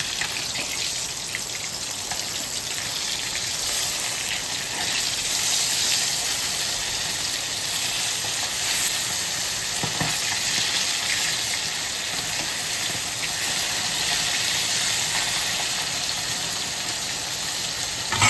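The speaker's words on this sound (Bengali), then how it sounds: "এই মাছটা ভাজা হতে থাক" Fish sizzles in hot oil, a steady bright crackling hiss with occasional pops, close and constant, with no talking.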